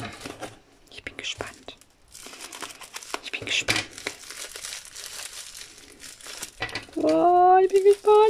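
Layered gift packaging wrapped around a diamond painting kit crinkles and rustles in bursts as it is unwrapped up close, with soft whisper-like handling noise, before a person begins talking near the end.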